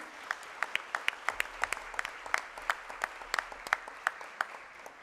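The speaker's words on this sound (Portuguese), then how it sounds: "Uma salva de palmas para o Davi." A modest church congregation claps during a solemn session for Children's Bible School, giving loose, uneven applause of distinct crisp hand claps at moderate volume, without voices over it.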